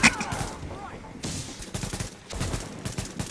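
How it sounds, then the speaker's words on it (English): Rapid bursts of automatic gunfire crackle through a tense firefight in The Division's Lincoln Tunnel mission, dense volleys of shots with short gaps, loud and close, with a voice talking underneath. "I was lighting him up and he shot me right in the chest"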